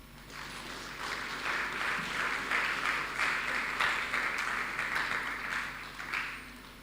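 A conference audience at a dialogue on small-scale mining claps for a lecturer, a steady wash of applause that holds fairly even for several seconds before tapering off, moderately distant and without talk over it.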